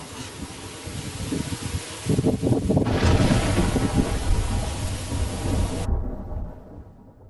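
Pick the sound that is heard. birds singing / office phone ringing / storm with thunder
storm with thunder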